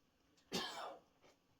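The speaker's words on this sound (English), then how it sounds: "coughing in the background" A single harsh cough, fairly near, followed by a faint breathy after-sound in an otherwise quiet room.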